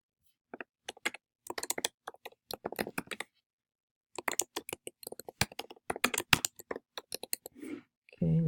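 Close keystrokes on a computer keyboard come in quick irregular bursts as text is entered, broken by a short pause. The clicks are crisp and there is no talk.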